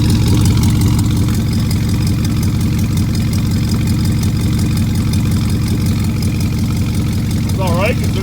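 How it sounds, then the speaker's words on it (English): A truck engine idling with turbo whooshes, a loud close rumble pulsing steadily, with a brief voice cutting in near the end. "Makes turbo noises."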